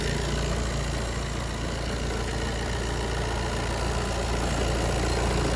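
A VW Passat B8 4Motion engine idles steadily at close range, a constant low rumble with an even hum and no other sounds.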